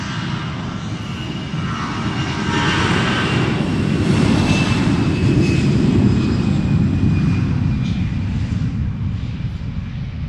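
An EasyJet airliner passes over London Luton Airport in fog, its engine roar rising to a peak mid-way and then holding as a broad, rumbling drone heard from a distance.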